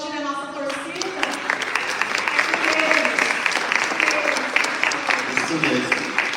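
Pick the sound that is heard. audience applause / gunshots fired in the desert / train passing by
audience applause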